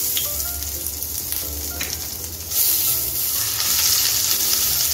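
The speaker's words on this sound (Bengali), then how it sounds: "এখন আমি গ্রেট করে রাখা আদাটা দিয়ে দিচ্ছি।" Grated ginger sizzling in hot oil with tempered cumin and chillies, a steady close frying hiss with occasional stirring scrapes, growing louder and brighter partway through.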